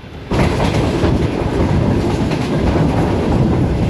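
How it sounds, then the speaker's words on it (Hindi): The 28 Down Shalimar Express pulls away from Toba Tek Singh station, a loud steady roar of rolling wheels and rattling carriages heard from on board, starting abruptly and holding constant. "डिपार्चर हो गया है Toba take Singh railway station से 28 डाउन शालीमार एक्सप्रेस का"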